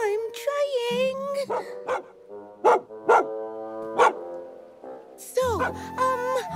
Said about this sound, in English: It's just a dog barking.